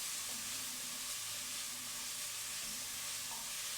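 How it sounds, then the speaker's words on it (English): Chopped onions and garlic sizzle steadily in olive oil in a pan for ratatouille, a constant close frying hiss with light stirring throughout. "Stir the onions and garlic"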